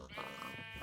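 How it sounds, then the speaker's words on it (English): Sheep in a Minecraft-style game, one short, quiet, wavering bleat lasting under a second, alone with no talk. "Sheep!"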